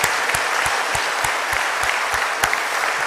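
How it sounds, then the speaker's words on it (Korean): Congregation in a Korean church service giving sustained applause, dense and even clapping with sharp individual claps throughout, close and loud with no voices. "다시 한번 하나님께 감사와 존귀와 영광의 박수 올려드리겠습니다."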